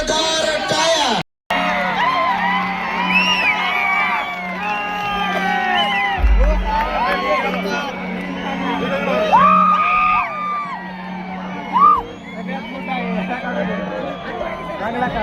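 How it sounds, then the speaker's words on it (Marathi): Crowd at an Adarsh Shinde live show in Ahmedpur, 2024, cheering and whooping loudly and continuously, with shouts rising over a steady low hum from the stage sound system. "पुन्हा एकदा जोरदार टाळ्या"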